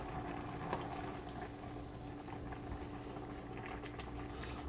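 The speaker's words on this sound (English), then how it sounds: "the sauce has started to bubble" Pasta sauce for a baked smoked sausage penne bubbling in a pan as it heats, a soft, steady simmering crackle with occasional small pops and a faint constant hum beneath, no voices.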